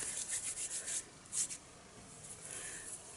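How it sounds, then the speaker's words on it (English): Hair oil rubbed between fingertips, a faint, soft, dry rubbing and swishing with a few brief louder strokes, close up and with no talking. "I try to rub it in my fingers rather than the palms so that I can kind of comb it through."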